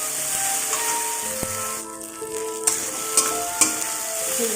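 Rohu fish pieces and pointed gourd sizzle steadily in hot oil in a pan, a continuous bright crackle with a few sharp pops and stirring clicks, close and fairly loud, no talking.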